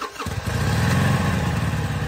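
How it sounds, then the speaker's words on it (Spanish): Motorcycle engine revving steadily with a low, throaty rumble, loud and close, starting after a brief quiet moment and holding for about two seconds, used as a sound effect in a radio advertisement. "Moto."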